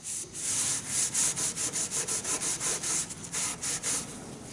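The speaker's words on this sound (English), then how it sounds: "get some wet paper towel, damp paper towel, and give your work a good wipe over" Damp paper towel wiped briskly over the wooden surface of a retro side table, giving a close, dry rubbing swish in a steady run of about a dozen back-and-forth strokes with no talking.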